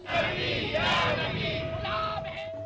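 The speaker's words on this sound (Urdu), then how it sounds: "اس موقع پر شرکاء نے زبردست نعرے بازی کی۔" Crowd of protesters shouting slogans together at a street demonstration in Hyderabad, a loud, dense mass of raised voices with yells rising and falling over about three seconds.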